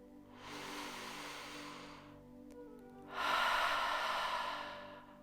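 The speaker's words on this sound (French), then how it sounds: "On va inspirer à fond par le nez. Et on expire tout par la bouche." A slow, deep breath drawn in through the nose during a yoga session, then a longer, louder exhale out through the mouth, close and alone.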